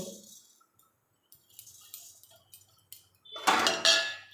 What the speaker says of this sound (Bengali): এবার আমি চারভাবে ভেজে নেব খুন্তি দিয়ে।